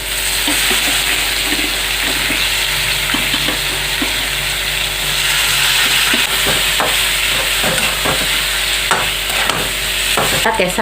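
Boiled potatoes stir-fry in a pan for prawn curry, a constant loud sizzle beneath clattering scrapes and knocks of a spatula stirring through the pan.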